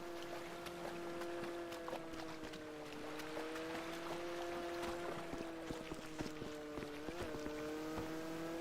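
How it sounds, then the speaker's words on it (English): A Sea-Doo jet ski engine in GTA 5 hums steadily at a faint level, its pitch wavering slightly, with scattered clicks and splashes over it. "This must be sea-doos."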